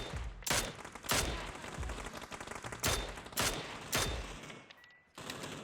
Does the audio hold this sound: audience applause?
no